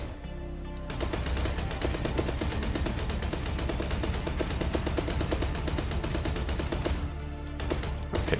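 Loud, rapid automatic gunfire in the video game Procelio, a continuous stream of closely spaced shots lasting about seven seconds before stopping, with no talking.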